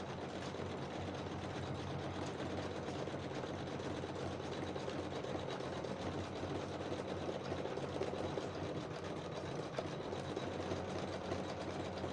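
An embroidery machine stitches down an appliqué, a steady fast mechanical whirring and ticking that runs evenly throughout at low volume, with no talk.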